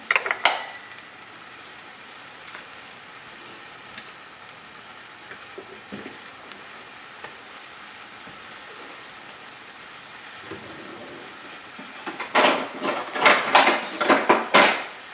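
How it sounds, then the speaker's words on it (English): Scallops and shrimp sautéed with wine, garlic and onions sizzle steadily in a pan, with scattered clinks of tongs; a louder burst of crackling and scraping near the end as the seafood is turned. "I'm going to take my tongs because I want to turn them."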